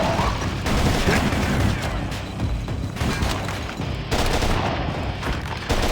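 Continuous heavy gunfire in the Shadowgun video game on Ouya, a dense, loud barrage of overlapping shots and booms that barely lets up over six seconds.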